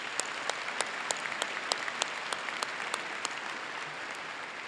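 A commencement audience claps for the staff and faculty, dense steady applause filling the hall with a few sharp individual claps standing out, sustained throughout without talk.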